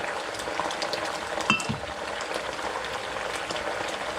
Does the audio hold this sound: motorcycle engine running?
no